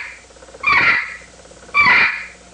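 A wooden box turkey call worked with two downward strokes gives two scratchy, rasping yelps, each starting high and dropping lower, close and clear with a short pause between them.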